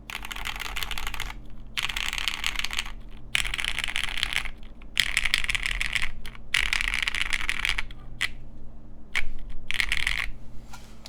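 Mechanical keyboard typing on a 1.2 mm PCB in quick, clacky bursts separated by short pauses, close and crisp with no voices.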